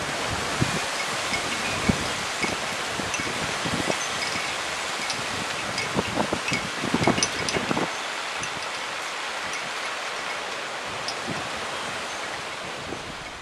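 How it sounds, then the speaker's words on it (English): Wind blows steadily around a yard wind turbine, a broad rushing roar with gusts and rustle rising and falling throughout, loud and close to the microphone. "This wind turbine works really well. Especially when there's a lot of wind out."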